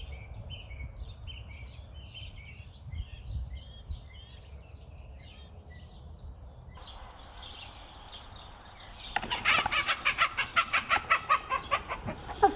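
Chickens cluck in soft, repeated calls across the first half, fairly quiet over a low background rumble, and later a run of rapid rhythmic taps rises up close.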